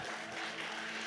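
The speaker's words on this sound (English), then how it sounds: "If y'all give them a round of applause" A church audience claps for the worship team in a brief, steady burst of applause that fills the room.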